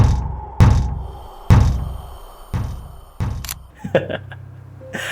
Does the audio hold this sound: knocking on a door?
yes